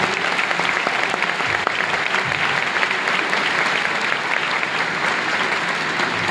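Loud, sustained applause from an audience at a municipal entrepreneurship school event, many hands clapping in a constant wash without pause or speech.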